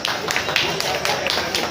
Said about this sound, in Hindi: लोग ताली बजा रहे हैं।